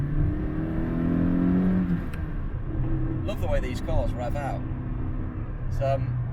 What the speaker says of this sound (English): Love the way these cars rev out.